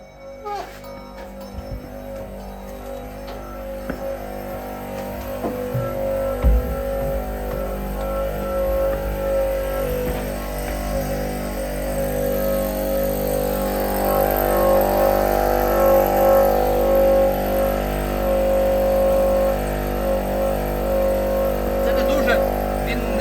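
A Honda two-stroke inverter generator drones steadily nearby with a buzzing hum that rises slightly in pitch and intensity over time.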